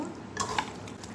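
Raw chicken being stirred and mixed with a ready-made biryani spice marinade, a brief, soft, wet squelching and scraping close by with a couple of faint clicks, no voices.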